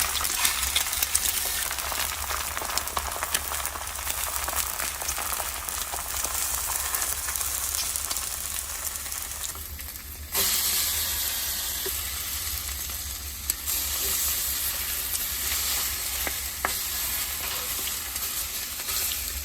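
Bacon sizzles steadily on a Ninja GR101 indoor griddle, a loud continuous crackling hiss with scattered pops and a brief shift in tone partway through, no talking.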